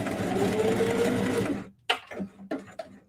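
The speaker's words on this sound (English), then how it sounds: "So I'm just going to sew straight down." A sewing machine runs steadily as it stitches a straight seam on a fabric book cover, a loud close whirring that stops abruptly, followed by a few clunks and handling noises.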